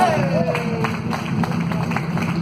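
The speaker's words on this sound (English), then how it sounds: "Give yourself a round of applause, please." Clapping from guests at a Yoruba traditional wedding, a steady patter of many hands under a dense layer of crowd noise and voices close by.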